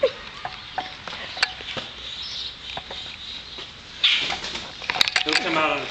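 A bird trapped in a garage flutters and calls in short, scattered bursts against a hollow room tone, with a flurry of louder activity near the end while people talk nearby.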